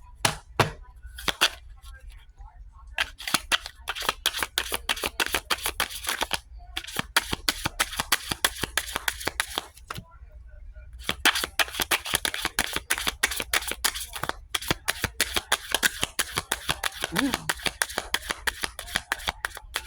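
A deck of tarot cards shuffled in rapid bursts of crisp riffling and flicking, stopping and restarting several times, close and fairly quiet.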